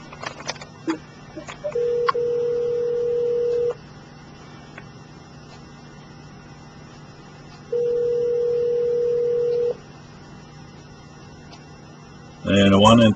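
Telephone keypad tones and ringing on a phone line, with two long steady tones, faint background clicks and a burst of louder sound at the end.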